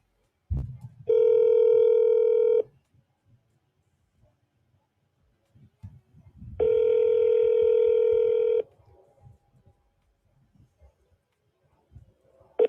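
A telephone handset gives two long, loud steady tones, each about one and a half seconds, separated by a pause, with quiet handling noise between them while a tip line number is called; no one speaks.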